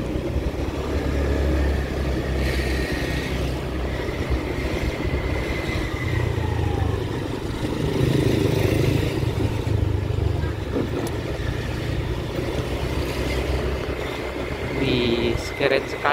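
Steady road-vehicle engine hum under continuous voices, driving through West Sumatra rice-field countryside with a gentle throttle, a mild rise in engine loudness midway and a constant low rumble throughout.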